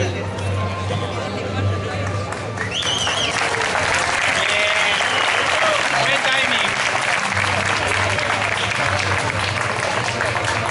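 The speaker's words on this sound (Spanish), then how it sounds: "Un aplauso, por favor," Applause breaks out at a high school graduation ceremony in Valencia, starting after a brief spoken remark and building into steady, full clapping with crowd chatter underneath.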